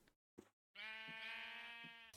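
A Minecraft sheep bleats once, loud and close, in a single long wavering baa after a couple of short clicks and a brief silence.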